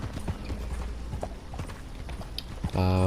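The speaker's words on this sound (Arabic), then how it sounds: "وجبنا هذا الحصان الحلو" Horse hooves clip-clopping in the Red Dead Online video game, a quick steady trot of close hoofbeats, ending with a short tonal game sound.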